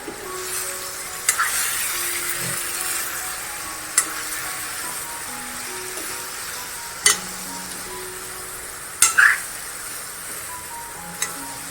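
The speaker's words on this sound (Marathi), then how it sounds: "आता मी मसाला घालून घेते जो आपला राहिला होता तो मसाला आता चांगलं परतून घ्यायचं आहे" Masala sizzles and is stirred in a pan on medium-low heat for a ridge gourd curry, with a steady frying hiss and occasional sharp clinks of a spoon against the pan.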